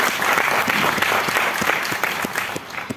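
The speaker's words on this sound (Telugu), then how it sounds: "ఒక్కసారి మీరు గ్రేట్ క్లాప్స్ ఇవ్వచ్చు" An audience claps steadily and densely for three seconds, a close, even wash of applause with no pauses.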